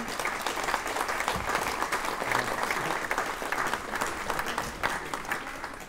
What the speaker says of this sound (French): applaudissements encore pour Simon Curven